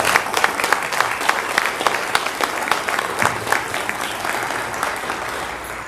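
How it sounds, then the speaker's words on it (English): Steady, fairly loud applause from an audience at a city public event, honoring the staff, with many hands clapping continuously throughout. "if you could all give them a round of applause"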